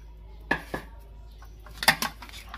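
Garlic and onion are mixed in a pan for sautéing: a few sparse metallic clinks and scrapes of a utensil against the pan, close but quiet, with near silence between.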